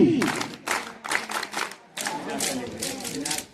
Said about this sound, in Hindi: शाबाश ताली।